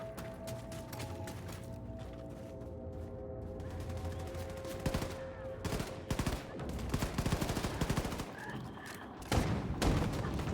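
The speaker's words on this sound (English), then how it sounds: "Oh my god, I hear a shotgun." Shotgun fire in a World War II-era shooting game, repeated booming blasts scattered through busy battle noise and other gunfire, with a player's voice heard faintly.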